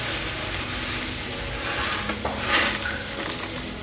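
Green lentils are stirred into sautéed onions in a pan, a dense steady sizzle with soft scraping of the spoon and a brief clatter of utensil against metal, close and without speech.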